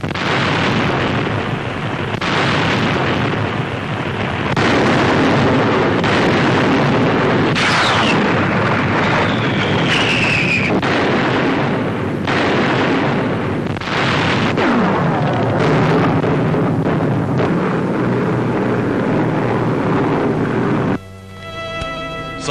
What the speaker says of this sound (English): When the big eggs land, they explode like clouds, and one more Jap base is wiped out.